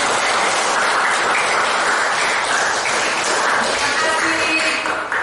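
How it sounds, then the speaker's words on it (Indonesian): Group applause fills a classroom session on church and world, with a sustained wash of many hands clapping at a loud, even level without pause. "supaya lebih senang kita tepuk tangan untuk kita semua."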